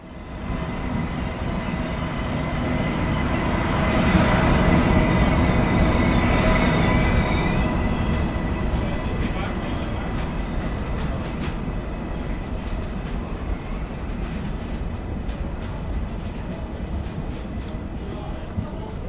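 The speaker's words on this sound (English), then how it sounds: "This is of course the iconic ICE-1, Germany's first high-speed train." A German ICE 1 high-speed train rumbles in from a maintenance facility and slows, its broad roar swelling then easing, with wheel squeal and rhythmic clicks over the rails.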